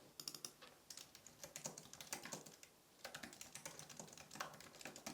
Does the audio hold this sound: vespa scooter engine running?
no